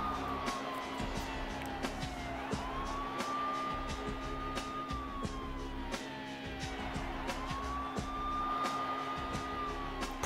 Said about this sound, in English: Just sirens, with a, like a beat over it.